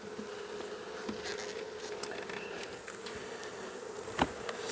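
Honeybees buzz steadily and densely while a bee package is being installed in a hive, a close, continuous drone with a few faint knocks and rustles.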